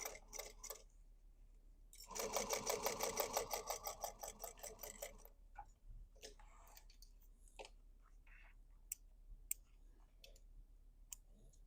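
A sewing machine stitches over a thick part of a fabric basket in a fast, even burst of needle strokes lasting about three seconds, followed by scattered clicks and handling sounds up close.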